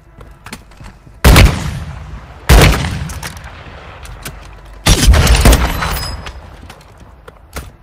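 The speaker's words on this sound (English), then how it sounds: "Mortar strike inbound now." Mortar strike in Warzone Mobile: three heavy, booming explosions land a second or two apart, each with a rumbling tail. Quieter scattered gunfire pops sound in between.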